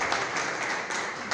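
A church congregation applauds, a dense and steady wash of clapping from many hands that lasts the whole brief moment.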